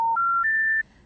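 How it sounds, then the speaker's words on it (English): Three rising electronic beeps make up the special information tone for a non-working phone number, clean and close, each note steady and held before the last fades into quiet. "those 3-note special information tones that signal a non-working number"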